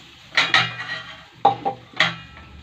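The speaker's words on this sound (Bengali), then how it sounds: "এখন এই মশলাটাকে কষাবো।" Onion, chilli and tomato masala being cooked in a pan, with a few sharp metallic clanks and scrapes of a spatula in short bursts, close and fairly loud.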